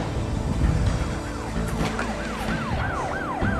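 A police car siren wails in repeated rising and falling sweeps over steady road traffic noise in a Romanian TV drama scene, growing more distinct toward the end, with no one speaking.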